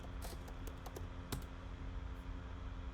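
Quick clicking keystrokes on a computer keyboard in a quiet room, a few sharp taps standing out over a low steady hum.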